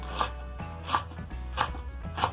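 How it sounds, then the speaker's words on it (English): A knife chops vegetables on a board in four evenly spaced, crisp strikes, each a sharp knock with a short tail, steady and fairly close with no voices. "chop well"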